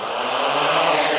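A drone's motors spin up for takeoff, giving a steady, dense buzzing whine like a swarm of insects that holds at an even level throughout, with no talking.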